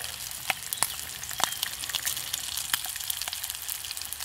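Bacon frying in a pan at an outdoor cookout under a tarp, a steady close sizzle with scattered sharp pops and crackles from the fat, no voices.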